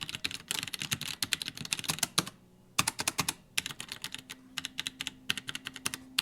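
Brisk typing on a large mechanical keyboard fitted with Rockat Titan brown tactile switches and half-height keycaps, close and crisp, in quick irregular bursts with a short pause partway through and no voices.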